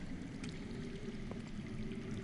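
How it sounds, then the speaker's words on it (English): Underground water flowing in a steady, close, continuous rushing wash with a soft trickling texture and no breaks. "I hear water. From underground."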